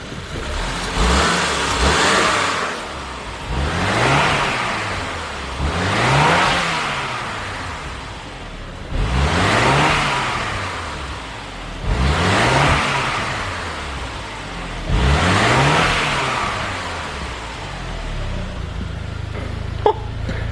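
A Saab 9-5 engine revs up and falls back repeatedly, five or six rising and falling sweeps, each settling toward a low idle, heard up close with no talking.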